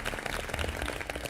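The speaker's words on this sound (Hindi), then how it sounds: "आई थिंक आप सबके लिए हम जजेस की तरफ से बहुत जोरदार तालियां।" Applause from the room on a celebrity cooking competition show, praising contestants' dishes: a steady patter of many hands clapping at moderate, fairly distant volume.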